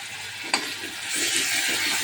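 Onion and curry leaves fry in a pan for a prawn masala and sizzle steadily as a utensil stirs them, with one sharp scrape early on and the hiss growing louder midway.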